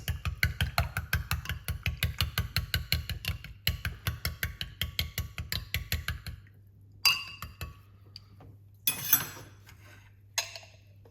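A spoon stirs a teaspoon of organic honey into a cup of rosemary, ginger, lemon and clove tea, clinking rapidly and steadily against the cup for about six seconds, then a few scattered lighter taps and clinks.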